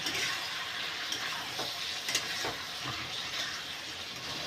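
Ginger, garlic, cumin and dried chilli paste sautéing steadily in a pan, a continuous close sizzle with occasional stirring scrapes and no talk.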